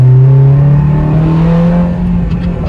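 A Honda Civic Type R EP3 with its VTEC engine revs hard and close, driving at high altitude, the engine note climbing and holding a strong sustained tone with no talk over it.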